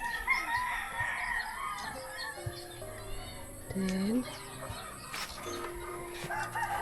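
A chicken clucks and a rooster crows amid outdoor background noise, with people talking nearby.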